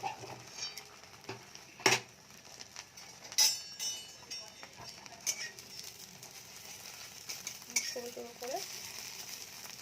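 Egg omelette mixture with pepper fries in oil, a quiet sizzle under scattered clinks and scrapes of a utensil against the pan, with a brief word spoken.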